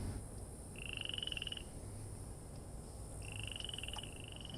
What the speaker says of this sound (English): Sounds like there's frogs here.